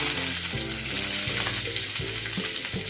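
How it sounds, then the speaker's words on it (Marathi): Chopped onions sizzle and crackle steadily in hot oil in a kadhai, broken by occasional scraping stirs against the pan, frying until brown. "कांदा सुद्धा आपल्याला चांगला ब्राऊन पर्यंत भाजून घ्यायचा आहे"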